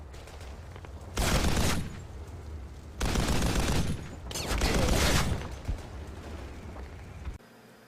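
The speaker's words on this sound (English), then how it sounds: "That includes using this 50 caliber machine gun" A .50 caliber machine gun fires in the World War II game Call of Duty 2: The Big Red One, with loud sustained bursts roughly a second or two long, separated by short pauses over a rumbling battle background.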